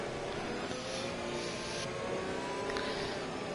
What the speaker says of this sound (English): I think it's the Ferrari engine, sounds the nicest.